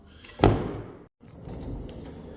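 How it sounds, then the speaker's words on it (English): A back sliding door being moved, a loud rumbling slide and thump followed by a brief pause and a quieter rolling rattle, close by with no talking. "So the back sliding door here, they've replaced this latch."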